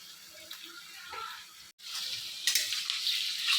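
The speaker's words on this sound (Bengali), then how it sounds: "গ্যাসের ফ্লেমটা একটু বাড়িয়ে দিই এটা ভাজা ভাজা হোক তার মধ্যে আজকে আর ডিম দেবো না আর ডিম দেবো না চিংড়ি মাছই দিয়ে দিচ্ছি" Prawns and chili frying in a pan over a high gas flame, a soft sizzle that breaks off for a moment and then returns louder and brighter.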